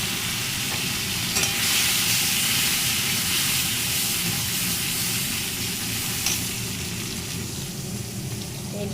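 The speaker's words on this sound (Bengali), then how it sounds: "লাল লাল করে ভেজে নেব" Chopped onions and kalonji (nigella seeds) fry in oil left from frying fish, giving a steady, loud, close sizzling hiss with stirring scrapes that lasts throughout.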